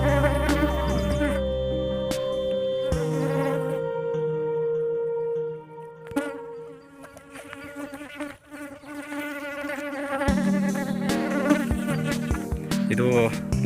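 Honey bees swarm around an opened bee box with a continuous droning buzz, louder and nearer at first, then thinner, before building again, with several sharp clicks and knocks throughout.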